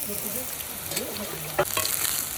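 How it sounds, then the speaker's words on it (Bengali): Fritters such as bora and beguni fry in oil on a cold winter day, a steady close sizzle with a brief louder crackle partway through, no talk. "এই কটা ভেজে এবার বেগুনি দেবো"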